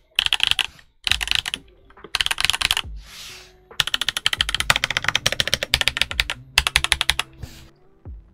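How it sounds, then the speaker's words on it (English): Typing on a Redragon K656 Garen Pro compact mechanical keyboard gives fast, close clacky keystrokes in uneven bursts, broken by short pauses, with deep clicky-sounding presses. "It's fun to tap, and it's almost like a deep clicky switch"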